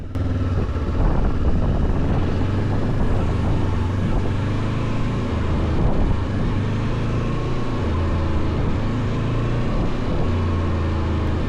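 A VOGE DS525X motorcycle engine in Eco mode revs with gentle throttle blips, a steady low throb swelling and easing back in smooth, moderate rises, close and clear with no talking.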